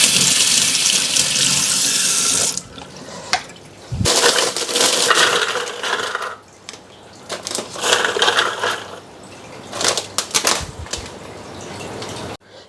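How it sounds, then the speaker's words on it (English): A food processor grinds biscuits into crumbs for a salted caramel cheesecake crust, a loud continuous whirring and rattling that pulses in bursts as the machine runs, stops briefly and restarts. "I'm also using the food processor to crush the biscuits."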